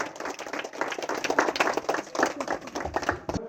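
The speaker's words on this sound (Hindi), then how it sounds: "इन सभी को जोरदार तालियों से स्वागत किया जाए" Hearty applause from a gathering at a Sant Ravidas Jayanti celebration, a busy patter of many hands clapping at close range for a few seconds.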